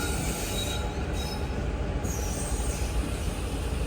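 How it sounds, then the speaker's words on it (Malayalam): The Thiruvananthapuram–Mangaluru Central Ernad Express pulls into platform 5 of a railway station, its wheels squealing loudly and steadily over a continuous rumbling roll of rail cars throughout. "ഇവിടെ 5-ാം number പ്ലാറ്റ്ഫോമിലേക്ക് Thiruvananthapuram Mangaluru central Eranad express ഇതാ കടന്നു"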